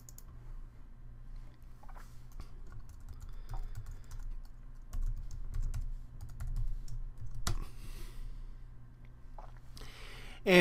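Typing on a computer keyboard while entering commands in a terminal, soft irregular key clicks in quick bursts with short pauses, fairly quiet and close.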